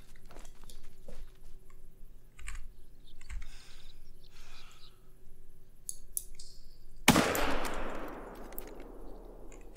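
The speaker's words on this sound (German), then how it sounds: "Der war nicht schlecht, der Schuss." A single sharp rifle shot cracks out abruptly near the end while hunting in theHunter: Call of the Wild, its noisy tail decaying over the following seconds after a quiet stretch of faint clicks and game ambience.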